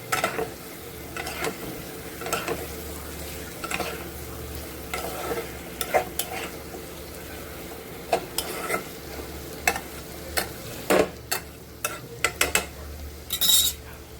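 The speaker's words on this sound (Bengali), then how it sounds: "ডিম আলু যেটা ভেজে রেখেছিলাম সেটা অ্যাড করলাম, করে এটা ভালো করে মশলার সঙ্গে মেশাবো" Fried egg and potato pieces are stirred into masala in a pan, a spatula scraping and clinking against the metal in repeated strokes over a steady low sizzle, close and fairly quiet, with no talking.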